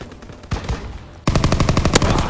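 Machine gun fire from a fighter's strafing run in a WWII video game: a short burst, a brief pause, then a fast, loud, close rattling volley.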